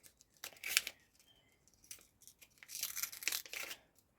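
Quiet, close tearing and crinkling of a paper packet of football cards in two short bursts, like a packet being ripped open along a perforated seam.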